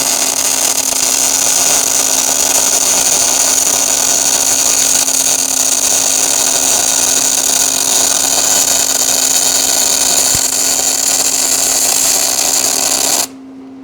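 Welding a bead on a trailer produces a loud, continuous buzzing crackle that holds steady for about thirteen seconds before cutting off abruptly, with no talk over it.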